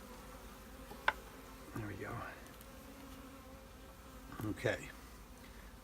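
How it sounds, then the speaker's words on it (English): Honeybees buzz softly around an open hive during an inspection, a faint continuous hum with a few brief louder passes close by, while a person talks briefly. "Whoop, there are a lot of bees in the way there."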